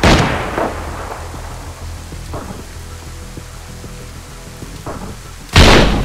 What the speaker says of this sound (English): He's shooting from the back.